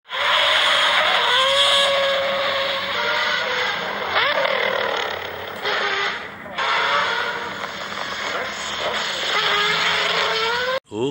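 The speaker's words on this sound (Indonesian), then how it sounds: "Wadidaw, ini ada mobil balapan." A race car runs loud and steady, its engine a continuous roar with shifting pitch and brief skid-like squeals, dropping away sharply near the end.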